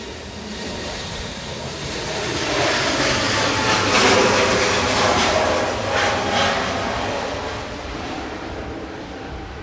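An Airbus A320neo airliner at Manchester Airport, its jet roar swelling from a distant rumble to a loud broad peak midway, then slowly fading.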